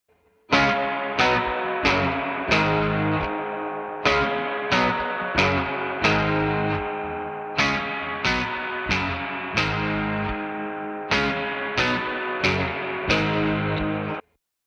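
Strummed electric guitar chords ringing out with a spacious tone from a stereo plugin effect applied only to the middle, played in a steady rhythm with no voices.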